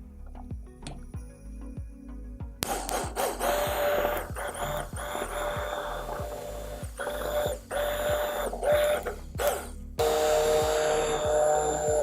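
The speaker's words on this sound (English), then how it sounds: "So we start by blending everything." Handheld immersion blender puréeing tender cooked pumpkin for soup, starting after a couple of seconds and running steadily with a high whine and wet churning, cutting off briefly near the end before resuming; no one speaks.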